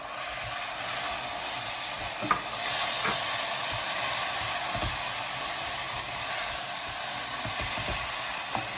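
Roughly blended pepper frying in a pan for suya pasta: a continuous hiss of sizzling with a few soft scrapes and knocks of stirring, no talking.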